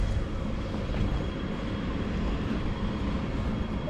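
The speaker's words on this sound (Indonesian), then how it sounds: "Nah itu tuh keretanya di sana." A train rumbles past at a Hong Kong level crossing, a steady broadband roar with low rumble that holds evenly throughout, fairly loud and close with no talk over it.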